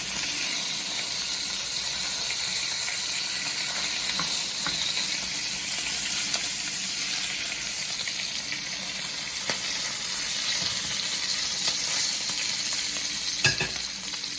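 Bacon frying in a pan, giving a steady close crackle and sizzle with scattered sharper pops. The sound runs continuously and no one speaks.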